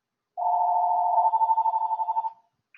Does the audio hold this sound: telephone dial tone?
yes